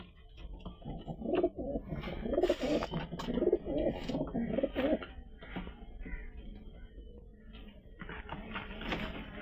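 Young pigeons coo in soft, repeated rolling calls at close range, several birds overlapping in a low murmur amid faint rustling, quieter toward the middle before picking up again at the end.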